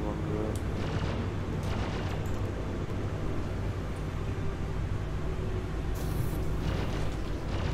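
Ship turret fire in the video game Star Citizen booms and rumbles continuously, heavy bursts blending into a dense low roar with a few sharper crackles.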